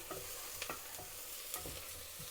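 Onions sauté quietly in a pan as the base for tomato rice, with a soft, continuous sizzle and a few light scraping stirs and taps, heard alone.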